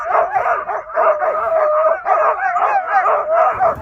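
A pack of excited sled dogs at a Norwegian husky farm barks, yips and howls continuously and loudly, close by, with only faint voices beneath the din.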